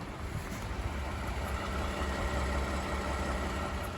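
Toyota Highlander with the 2GR-FE V6, rebuilt after a cylinder-one misfire, idles steadily with an even low hum and faint mechanical whir, heard alone without talk for a few seconds.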